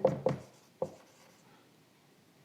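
Chalk writing maths on a classroom board, a few short scratchy strokes close by, two quick ones together and then another, with no talk over them.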